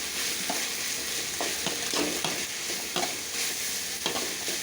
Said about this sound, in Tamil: சேர்த்து வச்சு நல்லா வதக்கலாம் நல்லா வதங்கட்டும்